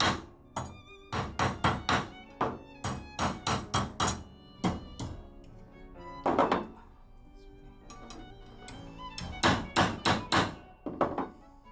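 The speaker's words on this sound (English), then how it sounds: "just gonna hammer this tang straight" A hammer strikes a chef's knife tang on a small anvil in quick bursts of sharp metallic blows, several runs of rapid ringing hits separated by short pauses, close and loud.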